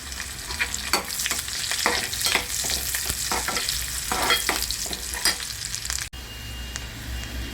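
Onion and green chilies frying in oil in a pan for egg masala, a continuous close sizzle broken by repeated scraping stirs, with a brief thump near the end.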